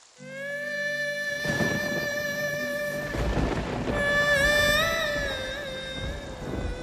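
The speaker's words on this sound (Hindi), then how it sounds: "तुम क्यों देखते हो बरसात को?" Steady rain falls with broadband hiss throughout, swelling with a heavier rumble like thunder near the middle, while sustained melodic music tones play over it the whole time.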